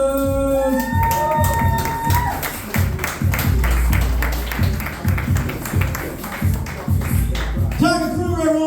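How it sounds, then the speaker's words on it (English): A comedy club crowd cheers and applauds a comedian, with loud whoops, shouts and clapping swelling over several seconds and a host's voice heard at the start and end. "Give it up for Phil Kolas!"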